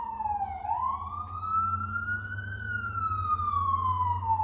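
An emergency vehicle siren on a New York City street, one continuous wailing tone that rises and then slowly falls as it passes, over a steady low traffic rumble.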